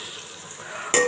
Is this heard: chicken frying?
yes